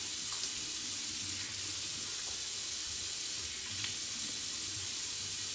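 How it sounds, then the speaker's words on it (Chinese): Tap water running steadily into a sink while a face is wetted at the start of a facial cleansing routine, a constant close hiss and splash with no speech. "首先把脸打湿"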